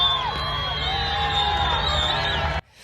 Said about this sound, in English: You can hear people cheering, whistling, and celebrating that they can see their end goal in sight, El Paso.